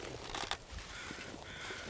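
A crow caws faintly in the snowy wilderness of The Long Dark, a brief call set against a steady background of wind-like noise.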